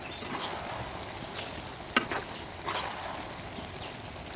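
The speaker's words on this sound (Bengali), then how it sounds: "শাকটা জাল পেয়ে একটু কমে গেছে এখন উল্টিয়ে দিচ্ছি" Leafy greens cook quietly in a pan and are turned over, giving a low, steady sizzle with a brief clink and a soft stirring scrape partway through, with no talking.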